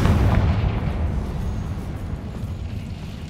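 A Confringo fire spell from Hogwarts Legacy bursts in a loud, deep explosion, a heavy boom that swells at once and then rumbles down over a few seconds.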